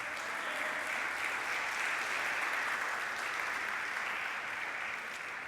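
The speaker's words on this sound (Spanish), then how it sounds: "Les damos un aplauso de bienvenida a los que creen" Welcoming applause from a church congregation, a steady wash of many hands clapping at an even level, sustained without pause from start to finish.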